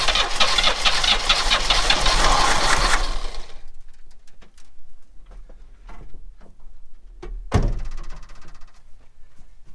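A 1968 Chevrolet Impala's 396 big-block V8, left sitting for 25 years, cranks loudly for about three seconds, then falls into quieter irregular clicks and thunks, with a sharp burst near the end.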